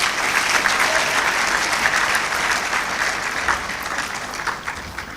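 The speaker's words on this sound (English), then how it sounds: "Let us give her another round of applause" Sustained applause from a graduation congregation audience, dense and steady clapping that carries evenly throughout and tapers slightly near the end, with no speech over it.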